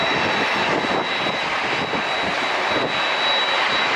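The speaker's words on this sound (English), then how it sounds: "And we just had a American 737 landing." American Airlines Boeing 737 jet landing at San Diego International, a steady, loud broadband engine roar that holds evenly throughout with no voices.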